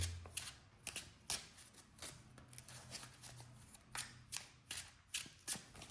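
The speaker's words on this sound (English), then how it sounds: "I'm gonna shuffle the deck" A Yu-Gi-Oh card deck is shuffled by hand at close range: repeated crisp riffling bursts with short pauses between them, some faint low speech underneath.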